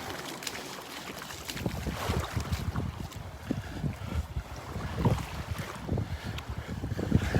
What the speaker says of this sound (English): That wind's coming out of the northeast. Pretty strong.